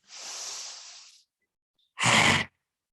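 A fierce, deep breath drawn in during a fiery yoga breathing exercise, a long rushing inhale followed by a short, sharp, forceful burst of breath, close and alone.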